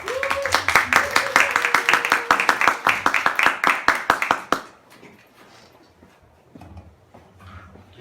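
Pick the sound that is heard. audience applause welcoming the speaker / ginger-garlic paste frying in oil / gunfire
audience applause welcoming the speaker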